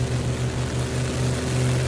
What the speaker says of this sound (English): You see that plane? There he goes.